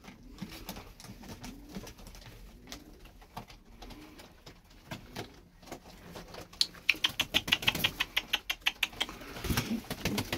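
Tumbler pigeons coo softly in a quiet setting, with low murmuring calls early on, then a rapid run of sharp flapping or scuffling taps near the end, close and moderately loud.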